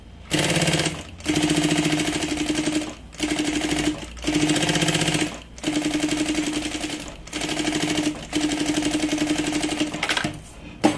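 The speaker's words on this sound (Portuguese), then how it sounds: "Vai só passar uma costura bem na beiradinha para segurar esse forro." A sewing machine stitches along the edge of a bag lining in loud, close bursts of rapid mechanical whirring, stopping and starting about six times with short pauses between runs.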